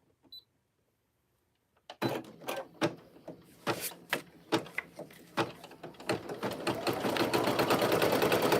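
A Brother PE800 single-needle embroidery machine starts up after a short silence, first a string of separate mechanical knocks, then building into a steady, fast, close stitching whir that grows louder toward the end.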